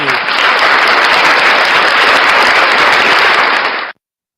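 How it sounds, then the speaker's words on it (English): A crowd at a live breakfast show gives a round of applause for Familia TV, loud and dense clapping sustained evenly for about four seconds before stopping abruptly. "Round of applause for Familia TV."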